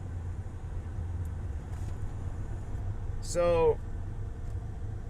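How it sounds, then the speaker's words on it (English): Road traffic backed up on a street in Austin, a low steady rumble of idling and creeping cars, with a brief horn-like tone near the end and someone speaking briefly. "traffic's backed up pretty bad right here"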